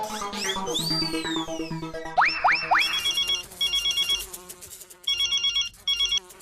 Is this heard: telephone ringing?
yes